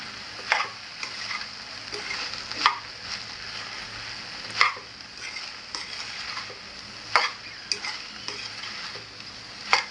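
Okra stir-fry with coconut in a pan, a steady sizzle beneath regular scraping stirs of a spoon about every second, close and clear, with no talking.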